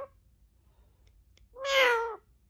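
A parrot imitates a cat's meow, giving a single clear, drawn-out meow that rises and falls. It stands alone against a quiet room background.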